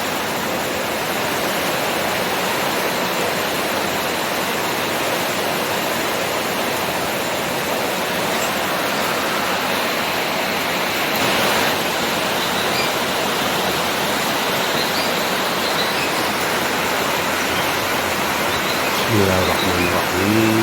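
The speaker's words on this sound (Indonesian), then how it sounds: "Selain hujannya deras, juga anginnya kencang." Heavy rain with strong wind, a loud, dense and steady rushing roar that stays unbroken throughout, with a faint tonal sound appearing near the end.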